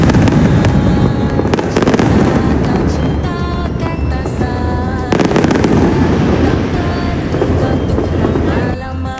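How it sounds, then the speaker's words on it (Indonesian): A fireworks display bursts continuously in front of a hotel in Malaysia, with dense crackling and booming explosions, loud and sustained through the whole stretch. "Kembang apinya bagus banget guys, parah, cantik-cantik dan meriah."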